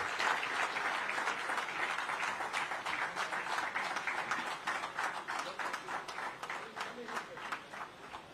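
A crowd at a prize distribution ceremony gives sustained applause, a dense, fairly distant wash of clapping that continues for several seconds while someone speaks over it.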